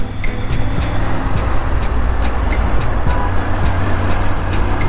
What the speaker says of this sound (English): now we can rip open the accelerator and ride the bike like a maniac